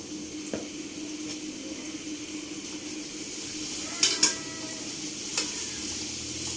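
Sliced onions sizzle and crackle in hot oil while being stirred for a masaledar bhindi, a steady soft frying hiss with a few sharp spoon clinks against the pan near the end.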